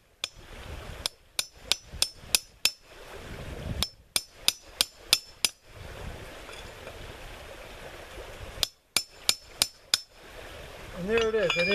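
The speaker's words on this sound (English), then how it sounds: "It just broke nice and clean just by hitting it with the cat's paw." Repeated sharp metallic strikes of a cat's paw on a brick come in quick bursts of several blows, with pauses between. A brief crack and light clatter follow near the end as the brick breaks.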